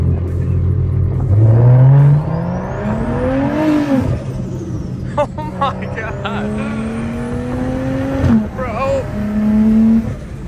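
A built BMW N55 engine with a big single turbo pulls hard through several rising gear sweeps with shifts between them, loud and close, with brief tire noise and voices in the background.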